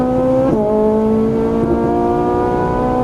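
A Ferrari 458 Italia engine pulls hard at full throttle, its loud, close, steady tone dropping sharply at an upshift and then climbing again without letup.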